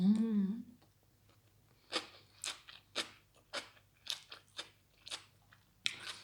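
Someone eats rice, vegetables and fish, with about a dozen close, crunchy bites and chews landing in an irregular rhythm after a short hum at the start.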